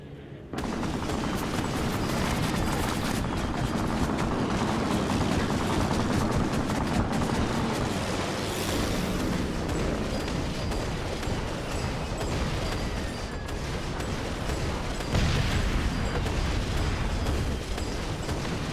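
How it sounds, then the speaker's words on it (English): Aircraft sweep in during an attack wave in Assassin's Creed Syndicate, with loud sustained roaring, gunfire and explosions piling into a dense, unbroken battle din for the whole stretch. "Final wave of planes."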